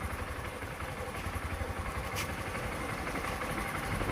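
A tractor engine rumbles loud and steady on a farm field being mulched for vegetables, a continuous close mechanical drone with a low chugging pulse throughout.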